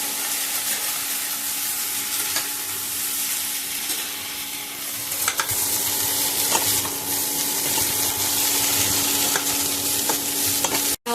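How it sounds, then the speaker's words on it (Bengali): Potatoes and drumstick flowers being stir-fried in a pan, giving a loud, steady hissing sizzle with occasional scrapes and taps of the stirring spoon, no voices. "সজনে ফুলটাও দিয়ে এর সাথে ভালো করে নেড়ে চেড়ে মিশিয়ে নেব।"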